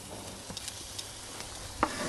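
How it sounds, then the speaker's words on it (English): Oiled steaks searing on a hot grill, a steady soft sizzle with a few faint clicks and a brighter tap near the end, fairly quiet and without talk. "heat the grill up nice and hot, oil the steaks first, that way you know they're not going to stick"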